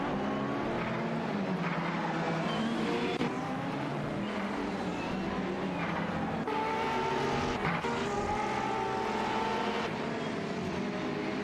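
An Aston Martin Vantage race car in a racing video game, its engine droning continuously at high revs with shifting pitch as other cars roar nearby, loud and steady with no talk.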